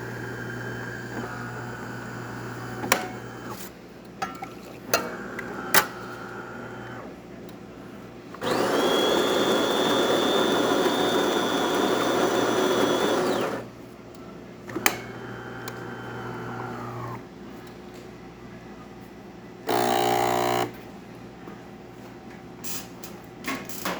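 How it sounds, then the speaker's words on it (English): A DeLonghi espresso machine, fresh from a full service and tune-up, pulls a shot: a loud steady pump hum runs for about five seconds, then shorter bursts follow among quiet clicks and handling noises. "nice steady stream coming out of the machine"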